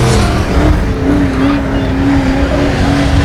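Race cars roar around a speedway oval on the last laps, a loud continuous engine drone with a rising whine as the pack runs through the corners.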